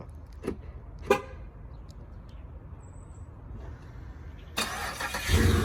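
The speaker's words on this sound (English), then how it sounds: "Remote start works." A couple of faint clicks and short beeps in a quiet space, then a Chevrolet Impala SS engine, started by remote start, cranks and catches, settling into a loud, close idle.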